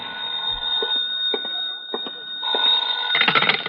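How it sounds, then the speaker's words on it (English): An old-time radio drama telephone rings in repeated bursts, a loud steady bell tone with short pauses between rings, close and alone with no talking. "when the phone rang again"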